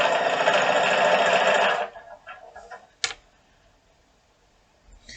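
A sewing machine stitches quilt pieces in a fast, loud mechanical whir for about two seconds, then stops, followed by quiet handling sounds and a single sharp click.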